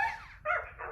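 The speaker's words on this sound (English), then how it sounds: "she's a doggy" A pet dog gives a few short yips and barks, close and fairly loud, with a brief pause between bursts.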